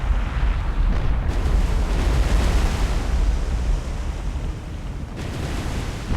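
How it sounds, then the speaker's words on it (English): A warship's magazine blows up in the naval video game War on the Sea, a heavy, rumbling blast that roars loudly and then settles into a long, lower roll. "Very nice magazine explosion."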